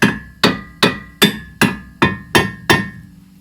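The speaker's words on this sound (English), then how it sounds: "I'll give it one more go with the air gun." Eight sharp metallic impacts ring out in an even rhythm, loud and close, from an air impact gun hammering at a stubborn rear trailing arm bolt on a 2004–2008 Pontiac Grand Prix.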